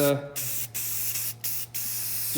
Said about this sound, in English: I'm just going to spray paint some parts